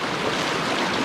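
A strong river current at Los Chorros in the Huasteca rushes in a steady, dense roar of churning water, close and loud with no pauses.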